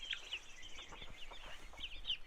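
Chickens in a chicken house cluck and chatter close by, with several short squawks and soft murmuring calls overlapping across a couple of seconds.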